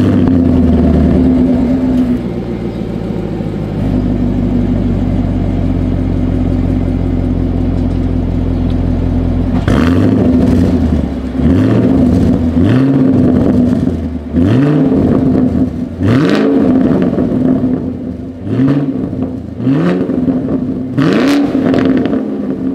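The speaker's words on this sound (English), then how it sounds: "As always, here is that exhaust clip." A 2023 Chevrolet Camaro SS exhaust idles with a steady, deep rumble, then it is revved again and again in sharp, rising bursts that fall back to idle each time. The exhaust is close and loud, with no talking.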